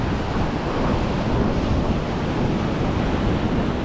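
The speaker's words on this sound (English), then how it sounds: "just waiting on the water to hit the rocks here" Sea swell waves wash against basalt rock formations at sunrise on Chambers Island, a steady, loud roar of surging water with wind buffeting the microphone and no voices.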